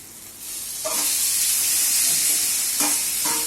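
Mashed eggplant for bharit hisses and sizzles steadily in a hot pan, with a few sharp scraping stirs standing out over the continuous frying noise, close and fairly loud.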